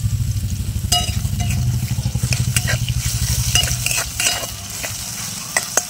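Curry leaves crackle and sizzle in hot oil in a pan, a close, busy frying hiss with sharp spitting pops and bursts scattered throughout, with stirring noises layered on top.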